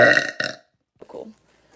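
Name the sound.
burp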